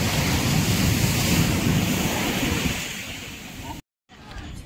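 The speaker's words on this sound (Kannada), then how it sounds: "ಏನ್ ಸಮುದ್ರ" Steady roar of ocean waves washing onto the seashore near a temple on the coast, loud and continuous with wind buffeting the microphone, cutting out briefly near the end.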